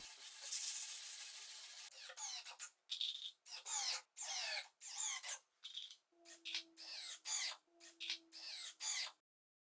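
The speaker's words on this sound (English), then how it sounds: "I'll give the workbench a quick sand to clean up some of the rough areas" Sandpaper or sanding block rubbing over a wooden workbench in a series of short, rhythmic back-and-forth strokes, close and fairly soft, with brief pauses between passes.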